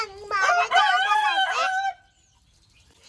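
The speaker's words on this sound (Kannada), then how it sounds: "ಕೋಳಿ ಕೂಗ್ತಾ ಇದೆ" A rooster crows once, loud and close, a single drawn-out call of nearly two seconds that stops abruptly and leaves near silence.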